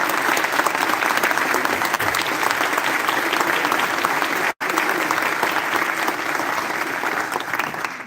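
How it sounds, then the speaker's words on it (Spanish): A book-presentation audience in Córdoba breaks into loud, dense applause that holds steady for several seconds, with a brief dropout midway before the clapping resumes just as strongly. "Un aplauso"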